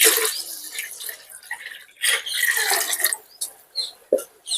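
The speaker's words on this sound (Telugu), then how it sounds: "ఇందులో మళ్ళీ సేమ్ క్వాంటిటీ వాటర్ కూడా యాడ్ చేస్తున్నాను." Water poured from a vessel into milk in a pot for a paalathalikalu sweet, a close splashing gush with gurgles and drips that comes in short bursts, with no voices.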